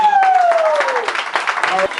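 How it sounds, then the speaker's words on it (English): Audience applause and cheering for the competitors at a talent competition finals, a short dense burst of clapping with a rising and falling whoop or whistle over it, loud and close. "Let's give them a round of applause."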